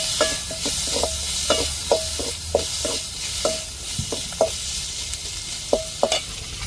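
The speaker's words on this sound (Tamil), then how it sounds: "தக்காளியும் சேர்த்து வதக்கிடுவோம்." Tomatoes and chilli sauté in a hot pan, with repeated sharp scraping stirs of a spoon over a soft steady sizzle and no talking.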